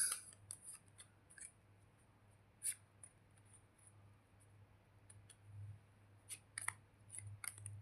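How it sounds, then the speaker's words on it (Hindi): Tarot cards being shuffled by hand: soft, quiet papery riffles and light flicks in scattered short bursts, with a low steady hum underneath and no voices. "एक शफल और"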